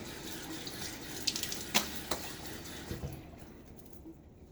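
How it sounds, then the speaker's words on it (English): Water from a running bathroom sink tap is splashed onto the face, with a few wet slaps over a steady faucet stream close by before the flow fades, and no talk. "splash water on my face."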